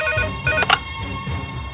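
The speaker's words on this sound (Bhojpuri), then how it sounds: "चौबे जी सर। फोन उठावा।" A telephone rings nearby with a short bright electronic tone, sounding in quick repeated chirps, loud and clear with no talk over it.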